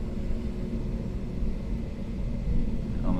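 Swiss Airbus A320neo taxiing toward the north runway, heard from inside the cabin as a steady low engine rumble and airframe hum throughout, with no talking.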